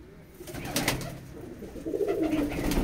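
Rampuri pigeons in a Howrah loft give low, rumbling coos under sharp clicks and rustling handling noises, with the cooing growing stronger toward the end.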